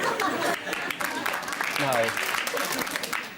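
Studio audience applauding and laughing at a cutting insult on a British TV chat show, a broad steady wash of clapping that runs the whole time, with speech audible through it.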